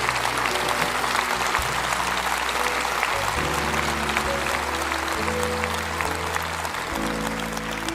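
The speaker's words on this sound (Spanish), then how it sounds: "Denles un buen aplauso a ellos." Church congregation applauding during a worship service, a steady sustained clapping with sustained musical tones underneath, no speech over it.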